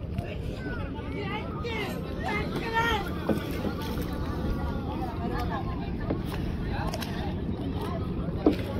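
A small wooden boat moves across the open water of Chapra Beel wetland in Tangail, its steady low wash and wind noise running under close, continuous talk from several people.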